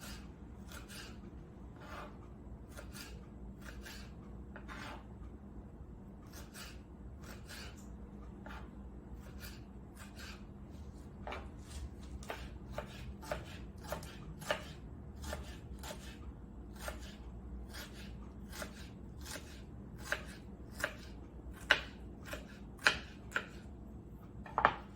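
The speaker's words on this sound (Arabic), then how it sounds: "نحاول نقطعه حتت صغيره" Chicken breast sliced into small pieces on a board, with sharp knife strikes coming sparse at first and then in quicker, denser bursts over a faint background. No one speaks.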